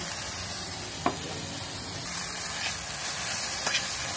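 Ingredients seasoned with fish sauce and ground pepper sauté in a pan with a steady low sizzle and a few brief stirring scrapes, close and alone.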